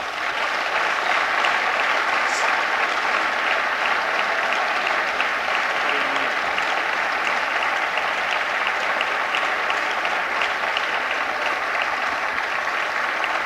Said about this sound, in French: Applaudissements sur les bancs de la gauche, socialistes et communistes